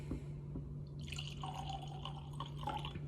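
Jack Daniel's No. 27 Gold whiskey pours from a bottle into a glass, a faint close trickle and gurgle lasting a couple of seconds over a steady low hum.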